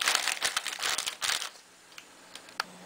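A potato chip bag being handled and opened, loud close crinkling and rustling in a quick burst of irregular crackles, then fading to a few sparse, faint crinkles and taps, no voices.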